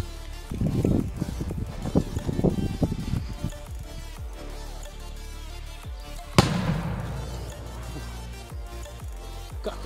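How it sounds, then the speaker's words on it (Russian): A powerful K-999 firecracker goes off with one sharp, loud bang partway through, after earlier scattered crackling and thumping, then a fading rumble of debris settles outdoors. "я, наверное, не оценил, как сильно взрываются петарды"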